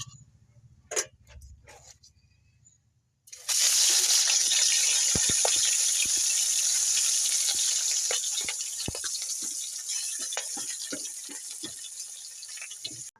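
Water from steamed taro leaves gushes and drains in a steady, continuous pour after a few quiet seconds with faint knocks, easing slightly toward the end.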